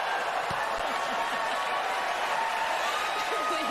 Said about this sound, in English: They're all clapping and throwing their arms up and cheering her on